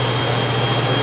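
An electric hand dryer blowing in a train restroom, a loud continuous rushing roar with a steady low hum underneath and no break.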